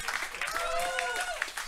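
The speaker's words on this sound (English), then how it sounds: "Nice round of applause for Fat Dennings, everybody." Audience applause at a comedy birthday roast, a brief burst of clapping from the crowd with a voice talking over it.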